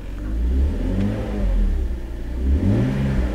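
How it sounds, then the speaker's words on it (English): A 2002 BMW 330ci Cabriolet with the M-Sport package revs its engine up close, climbing through one smooth surge, easing off, then rising again in a second loud rev. "the engine is so smooth and so nice."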